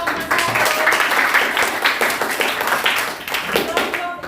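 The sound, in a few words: classroom applause for group one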